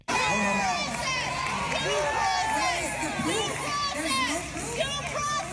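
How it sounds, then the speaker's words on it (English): A crowd at a heated political town hall chants and shouts together, a dense roar of many voices with rhythmic rising calls, continuous and loud throughout with individual voices rising above the mass. "They were chanting, due process, due process."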